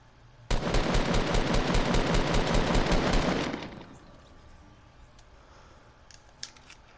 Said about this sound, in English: they're going with some big old gunfire